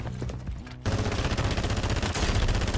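DG-58 rifle fire in Call of Duty Warzone 3, a loud dense string of rapid automatic shots that kicks in after a quieter opening and rattles on continuously to the end.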